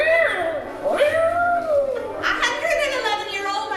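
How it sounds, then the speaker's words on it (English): A black cat named Satan meowing in an old-time radio drama, two drawn-out, wavering meows close to the microphone, the second rising higher and sharper, with nobody speaking. "Satan, her wise black cat"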